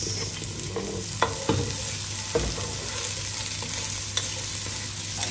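Onion, ginger and garlic sauté in hot oil in a pan for a Filipino soup dish. A constant bright sizzle carries occasional stirring knocks and scrapes, close and fairly loud, with no voices.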